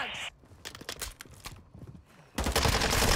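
SMG gunfire in Call of Duty Modern Warfare II multiplayer: several short, sharp bursts of automatic fire across the middle, then a loud, dense wash of shooting and game noise at the end.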